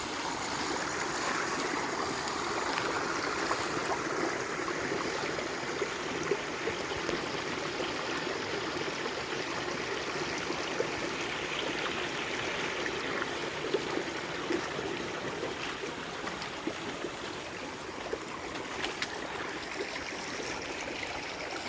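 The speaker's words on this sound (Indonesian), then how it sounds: "mata air itu dialirkan sampai ke danau" Spring water runs steadily through a channel toward a lake, a continuous close babble and trickle of flowing water with no voices.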